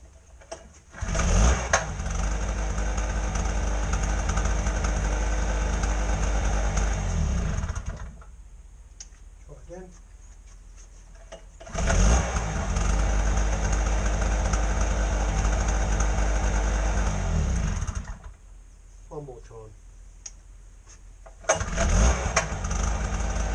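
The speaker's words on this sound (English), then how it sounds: "I'm going to give it another pull now. I've turned it off, just check it restarts okay." A two-stroke generator is pulled into life and runs at a steady buzzing idle, cut off and restarted again, with short quiet gaps between runs; close and fairly loud, no talk.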